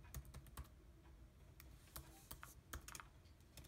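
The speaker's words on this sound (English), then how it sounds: "I have to enter my new password." Quick, light key clicks from someone typing a new password on a Mac keyboard, arriving in short irregular bursts with brief pauses, quiet and close, with no voices.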